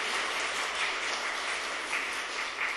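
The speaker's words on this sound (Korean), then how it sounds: "우리 그 하나님 앞에 영광의 박수로 우리 크게 한번 박수" Church congregation applauding during a Sunday worship service, a steady broadband wash of many hands clapping together at a sustained, even level throughout.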